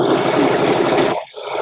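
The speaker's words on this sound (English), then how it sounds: "I gotta bring a sewing machine back over here and get her done." A sewing machine stitches steadily in a fast, continuous mechanical whir, running close and loud before a brief pause and restart.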